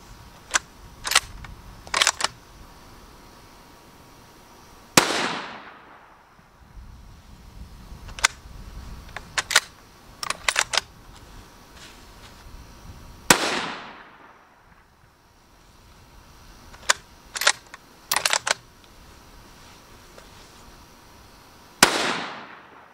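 A brand-new Ruger American rifle fires at the range, several loud sharp shots spaced seconds apart, each with a ringing decay, mixed with clusters of smaller clicks and clacks between them.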